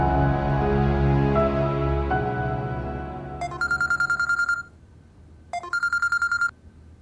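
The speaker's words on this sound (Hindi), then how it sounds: "ये मेरा फोन लें और अरसल भाई को मिलाएं।" A mobile phone being dialed: after a fading musical tail, two quick bursts of rapid keypad tones beep in succession, each a rhythmic string of short electronic beeps separated by a brief pause, with no talking.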